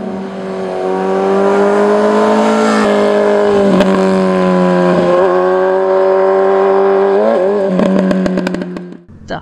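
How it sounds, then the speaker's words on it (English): A Suzuki Hayabusa 1340cc motorcycle is ridden through corners, its loud engine holding a strong steady howl, dipping briefly as the throttle eases between bends and then winding back up, with a few sharp blips near the end. "I'm going to ride a 1340cc Hayabusa for the very first time"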